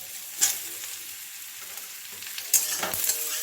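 Tomatoes hit hot fried onions in a pan and get stirred, a constant sizzle broken by two sharp splashing hisses as they go in, close up, with no voices.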